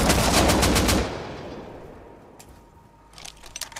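Rapid automatic AK rifle fire in the survival game Rust, a loud close burst of repeated shots for about a second, then fading echo and a few sparse clicks and taps.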